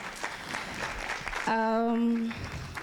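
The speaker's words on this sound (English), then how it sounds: "Please, a round of applause for Joshua." Applause for a presenter at a talk, moderate clapping in the first half that gives way to a sustained tonal sound near the end.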